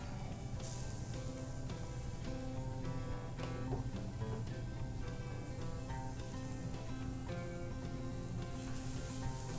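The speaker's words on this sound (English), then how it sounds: "We're gonna let these onions slightly brown. Add a nice little bit of garlic." Onions and garlic frying in a pan give a steady, quiet sizzle that never stops, with faint crackles and pops and no talking.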